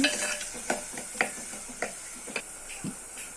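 A spoon stirring green chillies and onions in a pan for a silver fish curry, giving soft sizzling with a few sharp scraping taps spaced about half a second apart, quiet and close, no voices.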